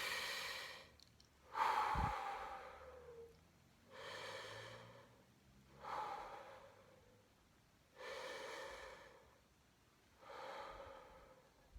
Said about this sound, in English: So breathing in as we go up, breathing out as we go down.